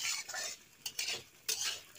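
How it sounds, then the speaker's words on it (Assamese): Taro pieces being stirred in a pan for an Assamese taro and red pumpkin curry, with a few sharp scrapes of a spatula against the pan over a soft, steady sizzle; no talking. "এইটো ভাজা যাব লাগিব, গোটা অলপ ৰংচোৱা হৈ যাব লাগিব, ভাজি থাকিব"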